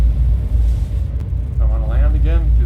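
Spaceship engine in Star Citizen spooling up for takeoff, a steady loud low rumble throughout with a rising whine near the end, while a voice talks over it.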